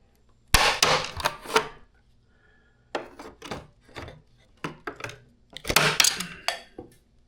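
Tin snips cut through a plastic cover on an air conditioner in a series of sharp, close snaps and crunches that come in bursts with short pauses between them.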